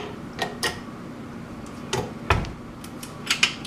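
An attachment is fitted onto a stand mixer, producing a few sharp metallic clicks and clunks spaced irregularly over a few seconds, close and fairly loud against a quiet kitchen background.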